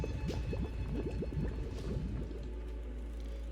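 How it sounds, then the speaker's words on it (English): Boiling sound effect from the video game Goddess of Victory: Nikke: a quick burst of close, thick bubbling and popping of liquid that fades out over a low steady hum. "The sound of something boiling."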